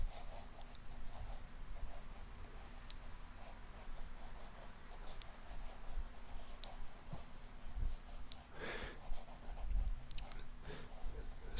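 An orange Prismacolor pencil sketches a drapery study on paper, giving soft, faint, continuous scratching and rubbing strokes heard up close in a quiet room.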